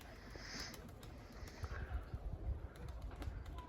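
Soft pigeon cooing and low murmuring close by, with faint rustling and shuffling of birds in an enclosed breeding coop.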